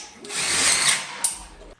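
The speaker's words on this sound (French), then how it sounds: "je peux venir directement avec la visseuse ici. Clic, clic, clic." A power screwdriver drives a screw into a metal stud of a steel framing structure. It gives a short, close, whirring buzz of under two seconds with a slight jolt near the end.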